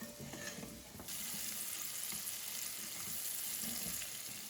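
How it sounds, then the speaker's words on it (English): Onions softening in a pan for carrot ginger soup make a steady frying sizzle. It runs close and continuous throughout, with a brief rustle of stirring at the start and no talking. "I just want to saute the onions just so they get nice and soft"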